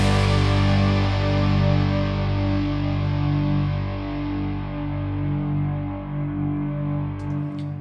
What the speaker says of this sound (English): On the last hit of the song, I wanted it to fade out into a little bit of reverb